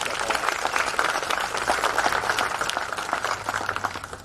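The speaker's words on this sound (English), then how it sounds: "I do want to give him a round of applause and thank him for all that he does" A crowd applauds Ken Purcell at the Santa Ana College Athletic Hall of Fame induction ceremony. The dense, steady clapping runs loud and unbroken for the whole stretch.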